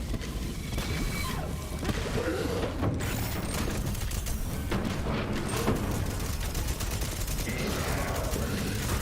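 Gunfire in the Borderlands 3 shooter during a boss fight against a Wendigo, a dense, steady barrage of rapid shots and impacts that keeps going throughout with no break.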